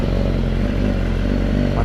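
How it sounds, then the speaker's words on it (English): A BMW motorcycle engine on a long road trip, a loud continuous low rumble with steady droning harmonics, close to the microphone and unbroken throughout. "I'm on a motorcycle road trip with the BMW."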